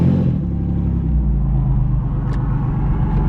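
A minivan engine with no O2 sensor, revving rough and misfiring, a loud low uneven rumble up close and without voices.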